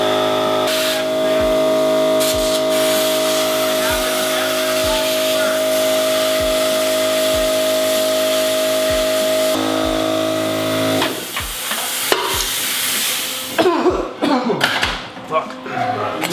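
A power drill with a carbide bit boring through thick tubing, a steady loud whine and hiss for about eleven seconds that then stops, followed by clattering handling noises, with a person speaking.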